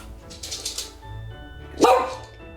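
A dog barks once, sharp and fairly close, after a few seconds of quieter background sounds.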